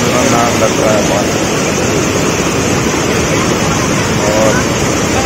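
Water rushing through opened dam gates, a loud, steady roaring wash of torrent noise with wind buffeting the microphone, constant and unbroken throughout.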